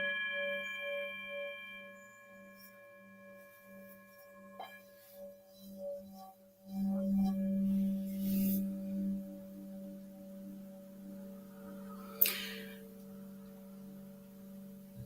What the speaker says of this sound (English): I'm hoping you can hear this Tibetan bowl that I have here.